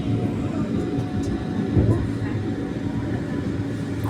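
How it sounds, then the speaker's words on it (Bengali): A Vande Bharat train runs fast, giving a loud, continuous rumble and rushing roar heard from onboard, steady throughout with no breaks. "হু হু করে চলছে বন্দে ভারত ট্রেন।"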